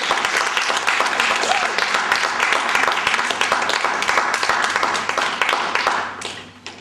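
Audience at a music school show clapping steadily and fairly close, a dense patter of many hands that fades out at the end, with a voice briefly heard underneath.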